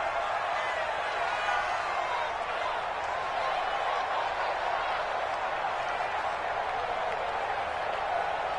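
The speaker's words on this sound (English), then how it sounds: "the crowd getting into it as we come up on a big third down" A stadium crowd in Madden 20 football, ahead of a big third down, makes a steady wash of cheering and murmur, even in level and somewhat distant throughout, with no clear peaks.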